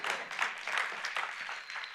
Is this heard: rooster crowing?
no